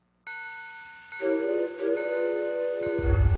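A synthesized train whistle sounds in the country-variation intro of a keyboard, with sustained harmonic tones that shift to a lower, louder chord and then give way to a low rumbling rhythm.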